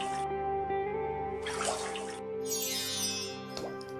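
Water in the thermal spring baths of Fallout 4 sloshes and trickles with splashy bursts and a soft running-water wash, set against a steady tonal hum from the game's ambience.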